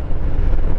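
Strong wind gust buffets the microphone while riding a 2023 Harley-Davidson Heritage Classic 114 past open fields, a loud, continuous low roar filling the moment without speech.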